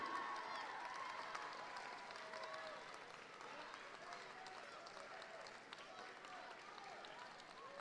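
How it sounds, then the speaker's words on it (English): Spectators at a rowing regatta applaud as the crews reach the finish line, faint and distant clapping spread across the whole stretch, with crowd voices mingling underneath. "Let's cheer them on in."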